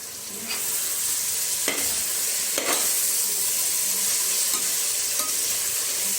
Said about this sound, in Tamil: புதினா இலையும் மல்லி இலையும் நல்லா வதங்கிக்கணும்.